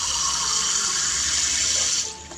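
Tap water runs steadily into measuring cups for a home cough-and-cold remedy, a close, even hiss of flowing water that stops abruptly near the end.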